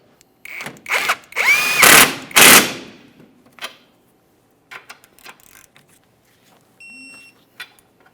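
Power tool rattling as it tightens rear strut suspension bolts on a 2008-2017 Mitsubishi Lancer 2.4L, two loud close impact bursts followed by faint clinks and handling noises.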